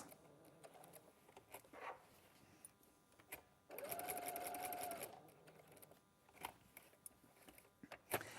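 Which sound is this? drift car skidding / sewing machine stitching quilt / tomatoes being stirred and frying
sewing machine stitching quilt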